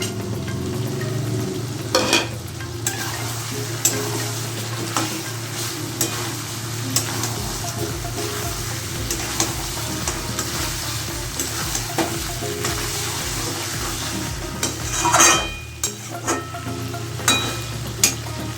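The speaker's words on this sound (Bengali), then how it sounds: "এখন আমি আলুটা অ্যাড করছি।" Potatoes tumble into a pan of sizzling Bengali chicken kosha, stirred through a steady frying hiss with scraping strokes and a brief louder clatter midway.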